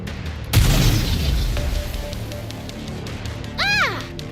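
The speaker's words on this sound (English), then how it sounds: "What are those? Explosives?" Homemade explosives burst in the Nikke video game, a single heavy boom followed by a long rumbling tail, then a rising electronic sweep near the end.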